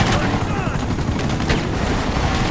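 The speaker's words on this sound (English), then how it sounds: "Oh, more incoming helicopters." Incoming helicopters in the video game GTA 5 roar as a loud, steady rotor drone, with dense rattling gunfire-like crackle layered over it throughout.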